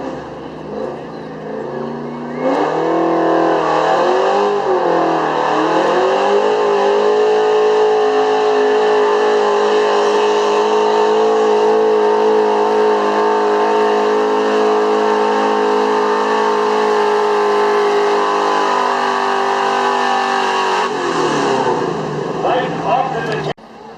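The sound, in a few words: 1971 Chevy truck with 454 engine at truck pull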